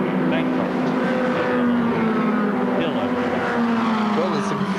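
Formula Ford race cars, including a Reynard and a Van Diemen, race in a pack at Brands Hatch during the 1984 Formula Ford Festival Grand Final. Their engines make a loud, continuous droning whine, and a commentator talks over it.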